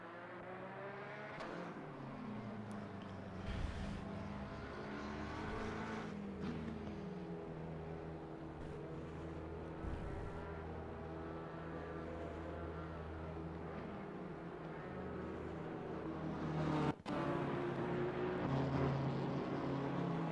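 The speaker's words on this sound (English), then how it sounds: "As the VRC Competizione lime green BMW dives into the pit lane," A lime green VRC Competizione BMW race car drives into the pit lane during a 24-hour race, its engine droning steadily with shifting pitch sweeps and one sharp knock near the end.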